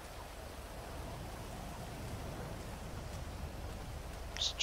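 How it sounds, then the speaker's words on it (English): Steady, soft rain hiss with a low rumbling bed, continuous and even, ending in a brief sharper blip; no voices. "It's raining."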